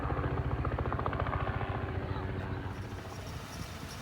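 A helicopter engine with rapid rhythmic rotor chopping, loud and close at first and then slowly easing off, at a scene with emergency vehicles nearby; a faint voice is heard beneath it.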